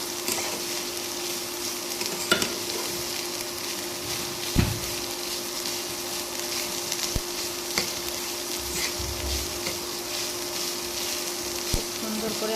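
Banana flower frying and being stirred in a pan, a steady sizzle with occasional scrapes and knocks of the spatula, close and continuous with no talk.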